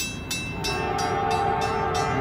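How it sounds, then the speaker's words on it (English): A northbound Norfolk Southern freight grain train passes a grade crossing in Walton, Kentucky, its horn sounding in repeated blasts over a continuous rumble of rolling wagons close by. "Looking like a grain train."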